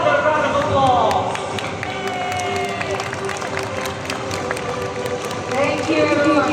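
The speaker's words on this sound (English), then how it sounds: "let's give Nelson another round of applause" A crowd applauds and cheers at a bird-of-prey show in Singapore, the sustained clapping mixed with crowd noise and a bright whistling tone throughout.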